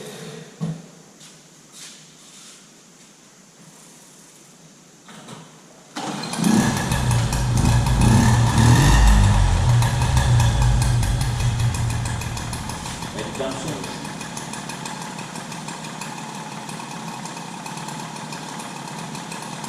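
A vintage Mobylette 40V moped being run in sits quiet at first, then its small engine fires up loudly, revs briefly and settles into a steady, close idle.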